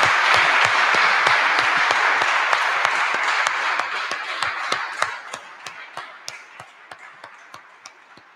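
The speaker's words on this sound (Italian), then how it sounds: "non soltanto per l'applauso con il quale comunque ora iniziamo" An audience applauds the author at the start of a book presentation on Eleonora di Toledo and the Boboli Gardens. Full, dense clapping thins after a few seconds into scattered individual claps that fade out.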